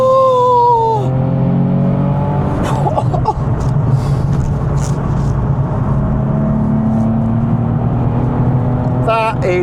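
Inside a Nissan 370Z sports car, the engine revs loudly and then drops away, followed by a sustained, rumbling acceleration that pulls hard over several seconds, with a voice breaking in now and then.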